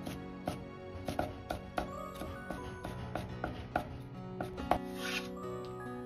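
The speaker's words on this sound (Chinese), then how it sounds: "然后从中间片开，也是先切成细条，最后切成小丁。" A knife dices seeded green chili peppers on a cutting board, a run of close, sharp chops in an uneven rhythm, roughly a dozen strikes, with quiet pauses between.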